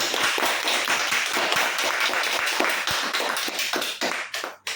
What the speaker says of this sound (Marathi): एकदा जोरदार टाळ्या वाजवा आपल्या स्वतःसाठी